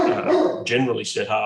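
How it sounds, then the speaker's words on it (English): A dog in the background lets out a few short, rough barks or coughing yelps, sharp bursts mixed in with someone talking during an event recording. "that's not me coughing in the background, that's the dog."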